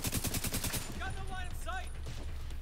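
A rapid burst of automatic gunfire in Tom Clancy's The Division 2, loud and close, cutting off into a low rumble with faint tonal game sounds afterward.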